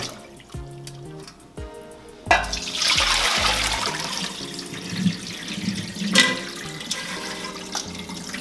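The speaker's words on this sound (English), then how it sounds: "We're just going to rinse them quick to wash off some of the starch and to stop the cooking." Cooked Korean guksu noodles being rinsed under a running kitchen tap, a steady hiss of water splashing into a sink after a few soft clunks, with no talking.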